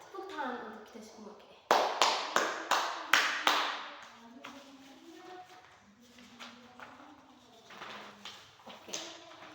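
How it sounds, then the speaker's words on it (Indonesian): Children in an Indonesian classroom clapping hands together, a short burst of about six loud, sharp claps followed by softer scattered claps, with voices talking underneath. "tepuk tangan untuk kita semua"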